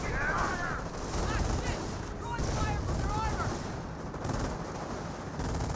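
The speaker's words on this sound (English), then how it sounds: "Panzergrenadiers firing away." Panzergrenadier squads firing rifles and machine guns in a Company of Heroes match, a steady crackle of overlapping distant gunfire with whistling sounds and talk over it.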